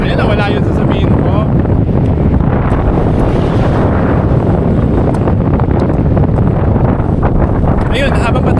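Strong wind buffets the microphone on the Cordova bridge in Cebu, a loud, steady roar with gusty swells throughout, while a voice talks over it.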